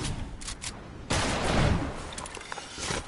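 Gunfire in a video game, a dense burst of shots from about one second in that keeps rattling on, with fainter pops before it.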